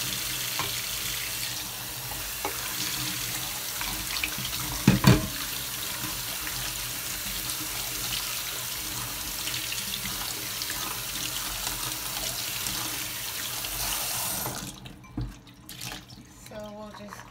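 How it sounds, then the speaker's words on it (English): Soaked chickpeas being rinsed under a running kitchen tap, a steady broadband rush of water lasting about fifteen seconds with a brief louder splash midway, then the flow stops and a few soft handling sounds follow. "So we'll just give those a good rinse."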